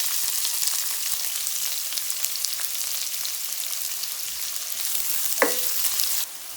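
Curry leaves, green chillies and onions fry in hot oil with mustard seeds, giving a steady, close sizzle with a single sharp clink near the end.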